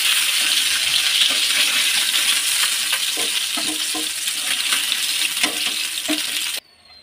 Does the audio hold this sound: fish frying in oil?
yes